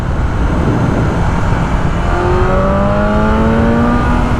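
A BMW M1000R motorcycle engine pulls hard in fourth gear, a loud, steady roar with a rising pitch under heavy wind noise, climbing continuously through the whole stretch.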